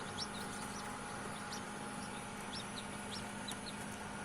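Faint, high chick peeps repeat irregularly, several short chirps over a constant low hum of background noise.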